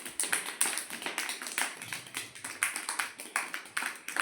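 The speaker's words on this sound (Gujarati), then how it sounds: "ચલો બધા તાળી પાડો." A group of people clap their hands together in a steady run of roughly even beats, loud and close, with no talking.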